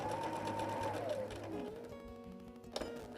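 Home sewing machine running steadily while stitching the binding on a quilt, a continuous close hum of rapid needle strokes that slows and shifts pitch near the end with a brief clack.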